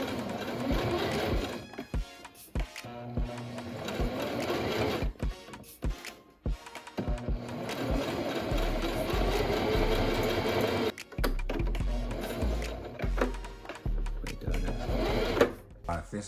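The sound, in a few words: sewing machine stitching fabric for a tote bag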